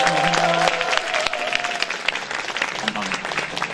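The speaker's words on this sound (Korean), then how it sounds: "큰 박수 부탁드립니다" An audience at a live public broadcast of a 2019 talk show bursts into loud, sustained applause that tapers off gradually, with a voice speaking over the clapping.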